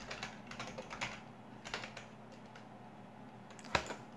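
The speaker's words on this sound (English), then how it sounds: "You're going to type BitTorrent." Fingers type on a computer keyboard in short irregular bursts of clicky keystrokes, close by, ending with one sharper key press.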